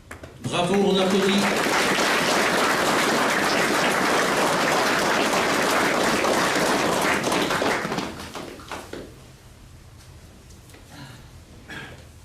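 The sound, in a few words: audience applause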